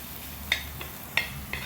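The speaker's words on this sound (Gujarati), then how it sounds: "લસણવાળી ચટણી અને ડુંગળીનો વઘાર કરી નાખ્યો છે" Garlic chutney and onion tempering sizzle in hot oil on a rustic earthen stove, with a steady frying hiss broken by a few sharp utensil clicks.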